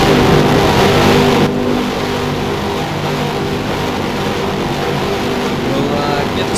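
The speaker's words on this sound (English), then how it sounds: "Racing drivers, start your engines, get them roaring." Several race car engines roar together at an oval race in a ROX Mods Goteborg event, a loud continuous revving drone that drops slightly in level after the first moment and holds steady, with no clear individual starts.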